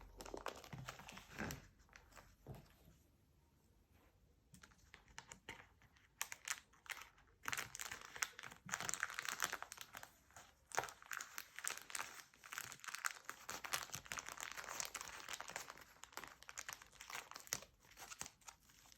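Crinkling plastic packaging being torn open around a plush dragon toy, a steady close-up run of crackles, crumples and tearing rustles lasting most of the stretch, with quieter pauses between handling bursts.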